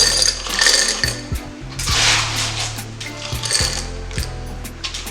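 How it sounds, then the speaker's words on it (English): Ice cubes clink and clatter into a glass in a few uneven bursts, close and fairly crisp, with no talking. "Now we're going to add some ice to the glass."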